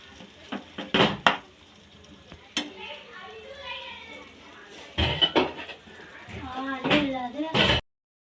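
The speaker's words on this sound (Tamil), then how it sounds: "நல்லா கிண்டி விட்டுக்கலாம்." A utensil scraping and clinking against a pot while stirring mushroom gravy, in scattered bursts, with voices talking in the background.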